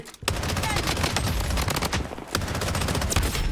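Rapid gunfire in a shooting video game, dense bursts of automatic shots packed tightly together, loud and close, with a brief pause near the start and another midway before the shooting resumes.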